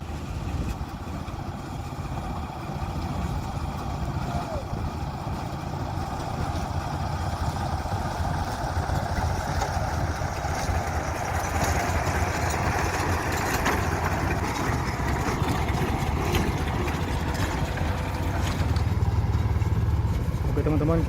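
A sugarcane railway locomotive, number 6, rumbles past a level crossing on the north-coast line, following locomotive number 2. Its heavy engine drones steadily and close for the whole stretch, with voices talking over it.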